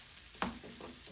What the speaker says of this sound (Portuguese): Vamos deixá-las fritar.